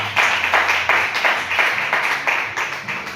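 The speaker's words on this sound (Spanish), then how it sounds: "Vamos a brindarle un fuerte aplauso a nuestro." Congregation applause in a church, a steady wash of many hands clapping throughout, fairly loud and continuous with small surges.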